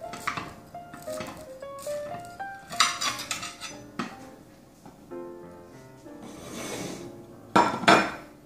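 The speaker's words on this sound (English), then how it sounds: "now I'm gonna cut a piece and see how it turned out" A knife cutting through a piece of cornbread in a pan, with a series of ringing metallic scrapes and clanks against the pan, louder bursts near the end, no talking.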